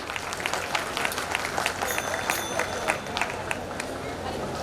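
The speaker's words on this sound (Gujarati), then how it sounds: "વિરાર માટે 3 તાળી." Clapping from a community gathering at a Janmashtami celebration in Mumbai, thanking the Virar volunteers, with scattered hand claps over a murmuring crowd and background chatter, moderately loud throughout.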